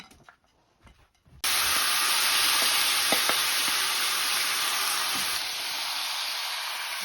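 Mince, carrot, onion and tomato hit a hot pan for bolognese sauce and are stirred. After a quiet start with some handling, a loud, steady, close sizzle bursts in and holds, with occasional soft knocks of stirring and no talk.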